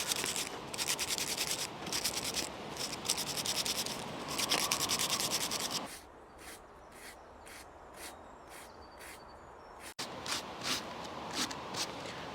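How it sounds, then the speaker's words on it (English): Dried, untanned dogfish skin used as sandpaper rubs across a workpiece by hand in quick repeated back-and-forth rasping strokes, loud and close at first, then softer and more spaced after a pause, with no talking. "we're just finished off a very last bit of sanding"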